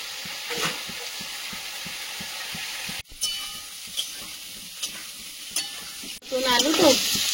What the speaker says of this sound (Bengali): আলুটা ভাজা ভাজা হয়েছে